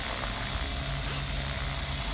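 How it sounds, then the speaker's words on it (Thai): Rotor of a Walkera V450 radio-controlled helicopter, recently repaired after a crash, spinning up as it is throttled: a steady, continuous whirring drone with a low buzzing hum, close and unbroken throughout. "หางเฮลิคอปเตอร์นะครับ อ่าดู หมุนรอบ หมุนรอบ"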